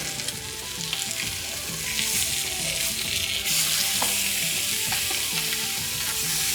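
Juniper-seasoned pork chop and lamb chop sear side by side in a hot pan, a loud, dense, unbroken sizzle close up with crackling spits throughout and no one talking.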